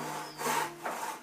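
A hand saw cuts through wood to form a tenon during renovation of an old rural house, giving two close, scratchy rasping bursts with a steady hum underneath.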